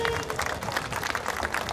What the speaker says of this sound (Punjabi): ਇੱਕ ਵਾਰੀ ਤਾੜੀਆਂ ਤਾਂ ਵਜਾਓ